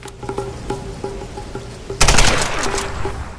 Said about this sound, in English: Shooting begins.